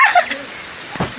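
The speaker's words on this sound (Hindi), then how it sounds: "बारिश आ रही देखो" Rain falls outdoors in mild, pleasant weather, a brief steady hiss of drops with a couple of sharper taps near the end.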